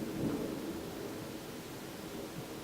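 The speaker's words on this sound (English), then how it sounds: "Oh, okay. Thunder." A low, steady roll of thunder rumbles throughout, distant and fairly faint, with no voices over it.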